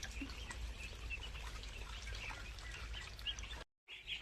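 Young local-breed ducklings peep softly in a constant faint chatter of high chirps, a little distant against a low background rumble, cut briefly near the end.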